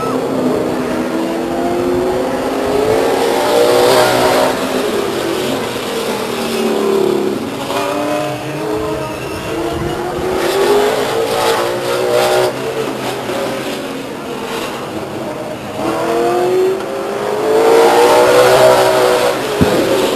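A late model stock race car engine laps the Stockton 99 Speedway oval, revving loudly, fading between passes and surging back up, with some crowd and track ambience.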